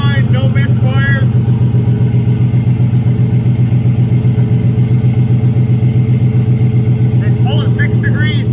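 A turbocharged LS V8 swapped into a Caravan idles with a loud, steady low rumble and even pulsing throb, close by, while a voice speaks briefly over it near the start and end.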